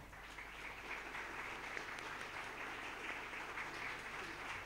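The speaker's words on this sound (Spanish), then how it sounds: "Recibámoslo con un fuerte aplauso a Sergio Vitar." A seminar audience applauds to welcome a speaker at a national public budget event, steady dense clapping that sustains evenly throughout at a moderate distance.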